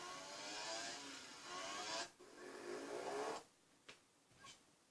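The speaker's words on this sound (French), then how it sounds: "Après, on peut choisir le bruit du moteur." Kart engine in the video game LittleBigPlanet Karting, a loud steady buzzing whir that rises and falls for about three seconds, then cuts out to brief faint blips.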